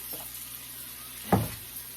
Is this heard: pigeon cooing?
no